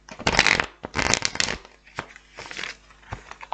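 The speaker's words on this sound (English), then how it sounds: "one more shuffle." Tarot cards are shuffled by hand in several close bursts of riffling, flapping card noise, separated by brief pauses and softer shuffles.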